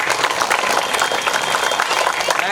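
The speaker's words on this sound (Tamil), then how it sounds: "அவங்களுக்கு சேர்த்து பலமாக கைத்தட்டு நம்ம உடம்புக்கு ஆரோக்கியம்." Audience at a primary school's triple-celebration function in Ariyalur district, Tamil Nadu, claps loudly and steadily, a close, dense wash of applause filling the whole short stretch without pause.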